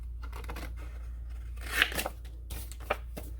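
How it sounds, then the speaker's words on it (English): A few quiet snips of scissors cutting paper, short crisp clips against a low background hum. "if you happen to have some scissors, we can actually just do what I would call a rough cut"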